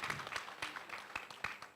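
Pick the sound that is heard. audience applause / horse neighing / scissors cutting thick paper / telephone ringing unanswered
audience applause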